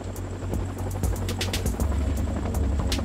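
Chinook tandem-rotor helicopter with overlapping rotors, a steady low rotor throb and engine rumble with faint blade slaps, continuous and fairly close, no voices.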